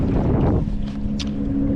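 A Parsun 6hp four-stroke outboard engine runs at top speed on a boat, cavitating slightly, a steady low drone under rushing water and wind noise.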